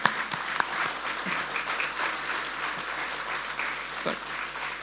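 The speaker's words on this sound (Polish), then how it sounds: "naprawdę należą się wielkie, wielkie brawa wszystkim dzisiejszym artystom" An audience in a hall applauds after a concert with sustained, dense clapping at close range and a few sharp individual claps standing out.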